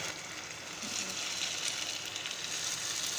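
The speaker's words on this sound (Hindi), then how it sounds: "अब ये जो मैंने कबाब रेडी किए हैं ये रखूँगी और फ्राई करती जाऊँगी।" Seekh kebabs frying in a pan greased with a spoonful of oil, giving a continuous soft hiss and crackle that stays steady and close throughout.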